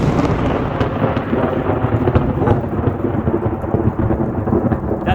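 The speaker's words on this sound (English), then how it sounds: "The wind is starting to pick up and the rain." Heavy rain pours down in a dense, loud roar with rumbling thunder and gusting wind after dark during a severe storm with tornadoes nearby, continuous and close without a break.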